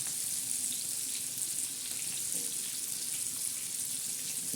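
Bangda mackerel frying crisp in hot oil, a steady, close hiss and sizzle with fine crackling spatter continuing evenly and without speech.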